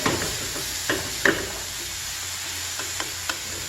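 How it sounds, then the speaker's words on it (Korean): Minced meat is stir-fried and broken up with a wide wooden spatula, a steady close sizzle broken by several sharp scraping and tapping strokes of the spatula against the pan. "젓가락으로 하면 조금 이제 뭉칠 수 있으니까 이런 넓적한 나무 주걱으로 부셔가면서 볶아주세요"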